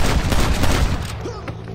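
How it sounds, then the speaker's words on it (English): Rapid gunfire from the Red Dead Redemption video game: a dense volley of overlapping shots in the first second, tailing off into a few scattered reports and fading echoes. "More experienced players can place the shots individually to devastating effect."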